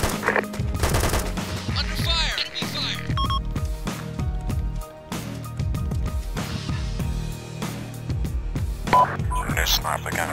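Rapid bursts of video game gunfire crackle repeatedly, with sharp shots, electronic beeps and radio-style voices mixed in throughout.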